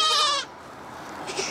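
A goat on a homestead farm lets out one loud, close bleat at the start. The rest is quiet, with a fainter sound near the end.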